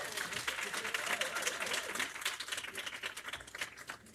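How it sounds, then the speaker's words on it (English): A round of applause from a crowd at a women's leadership roundtable, steady dense clapping throughout with voices mixed in underneath. "Let's give our fearless leader a round of applause."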